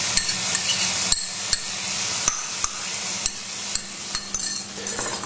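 Spices and garlic hitting a pan of onion mixture, a steady bright sizzle with stirring scrapes and light clinks of a spoon against the pan, close and continuous.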